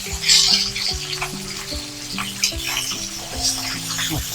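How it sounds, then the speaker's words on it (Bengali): Fish frying in hot oil in a home kitchen, a steady close sizzle and crackle running through the whole stretch with a tonal hum underneath. "বন্ধুরা আমি ওই মাছটাকে একটু লাল লাল করে ভাজবো"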